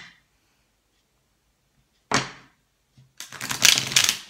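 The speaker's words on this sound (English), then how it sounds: "Okay, for Aquarius, one last shuffle." Tarot cards riffled in a quick, close shuffle: a short crisp burst, then a longer, denser flurry of card flicks after a brief pause, with no talking.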